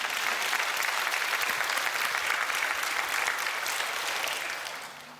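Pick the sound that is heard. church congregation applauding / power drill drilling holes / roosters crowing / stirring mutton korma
church congregation applauding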